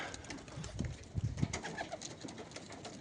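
Soft, low pigeon coos rising and falling over several seconds, close by, with light rustling and fluttering around them.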